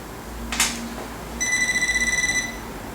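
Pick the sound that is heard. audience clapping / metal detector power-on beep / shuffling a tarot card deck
metal detector power-on beep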